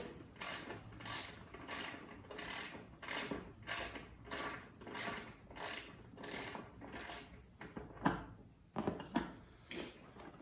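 A 10 mm socket ratchet backs out a single center bolt under the seat of a 2001 Yamaha V Star 650, giving a steady series of about a dozen crisp, close clicking bursts, followed by a couple of final louder clicks.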